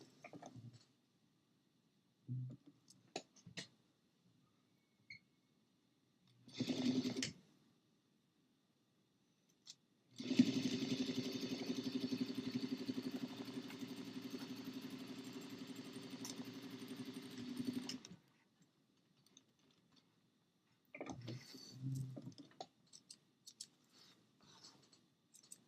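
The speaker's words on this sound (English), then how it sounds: "step over to our sewing machine and sew a 5/8 inch seam allowance" A sewing machine stitches a 5/8 inch seam in one steady, continuous run of rapid mechanical whirring lasting several seconds, set between short bursts of fabric handling and quiet pauses.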